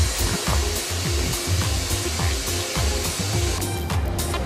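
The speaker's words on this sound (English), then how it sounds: "A worker sprays a pair with about 1 kilo of sand at 4 bars of pressure" A loud continuous blasting hiss of pressurized sand spraying jeans at about 4 bars, with a rhythmic mechanical thumping underneath, steady and close for the whole stretch.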